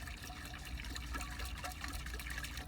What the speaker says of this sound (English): I'm going to pour inside my container that we need to house everything in my hot water.